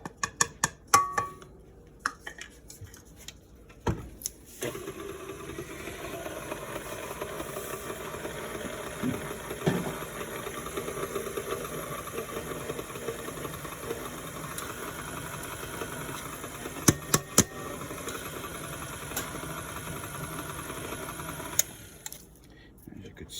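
An electric mixer whirs steadily through muffin batter of flour and dry ingredients, a continuous motor drone with faint ticking, starting and stopping cleanly at either end.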